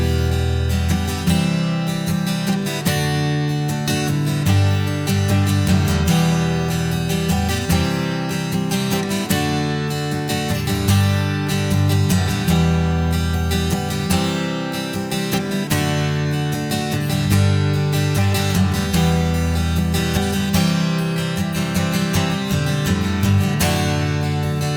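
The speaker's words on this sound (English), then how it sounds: "It sounds like he's attacking the chords and the guitar a lot more in the bridge" Acoustic guitar chords are strummed hard and dense in the bridge of a song, a loud, continuous wall of driving strokes with bright attacks and a steady rhythm throughout, with no voices.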